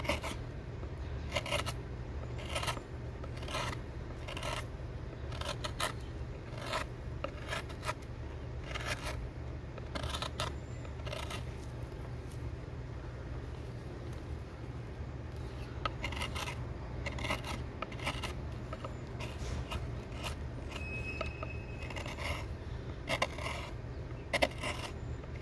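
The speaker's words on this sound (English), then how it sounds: "I love that sound of that chisel." Chisel scraping and carving cottonwood bark for a fairy house, a steady run of short rasping strokes repeating at an uneven pace over a constant low hum, close up with no voices.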